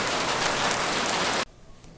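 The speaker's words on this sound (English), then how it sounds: "It's raining now." Steady, dense rain hisses loudly for over a second, then cuts off abruptly to near quiet.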